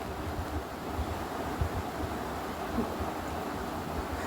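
Wild taro flowers fry in a pan, giving a steady, soft, even sizzling hiss that continues without pause and without talk.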